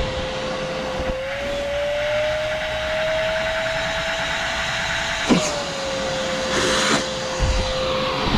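A Bauer 14-gallon 6 hp shop vacuum runs with a loud steady motor whine that rises slightly in pitch. Brief rattles and bumps of debris and the hose break in partway through.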